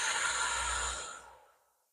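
A deep, slow breath out during a ribcage breathing exercise: a single breathy exhale, close and fairly loud, that fades steadily to silence over about a second and a half.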